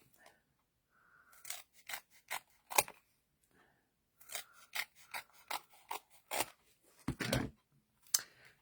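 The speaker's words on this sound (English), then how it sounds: "I am just going to cut some strips." Scissors cut strips from an adhesive sheet: repeated close, crisp snipping strokes in two clusters with short pauses between, each cut a sharp rasping crunch.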